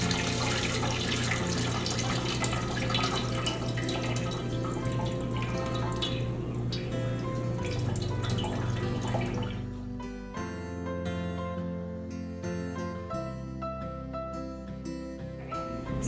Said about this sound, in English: You're going to pour into your strainer and let the buttermilk go into your catch container.